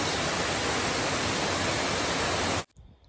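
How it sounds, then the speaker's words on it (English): Little Wilson Falls in a wilderness forest along a long-distance trail, a dense broadband rush of falling water roaring steadily and close, then cutting off abruptly near the end. "Here we come to our first waterfall in the wilderness, and it's called Little Wilson Falls."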